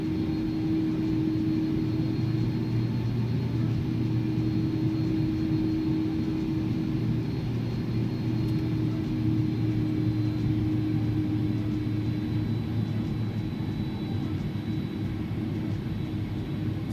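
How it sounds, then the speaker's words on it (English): Iberia Airbus A300 in X-Plane 11 rolling toward the runway, a steady low engine drone with a constant whine layered on top, continuous and even throughout with no talk. "We're just going to taxi on to the runway here and get underway."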